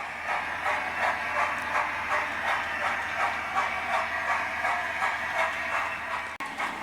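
A Hornby Lord Nelson model locomotive hauls a rake of benzene tank wagons along the track, producing a continuous close whirring hum with a regular clicking rhythm of wheels over rail joints, ending in a short clunk.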